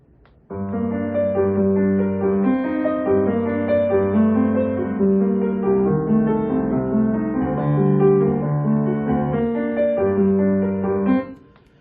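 A steady sustained piano passage of Liszt played at an unhurried, slow tempo of 138 in double beat, continuous and moderately loud with no voices.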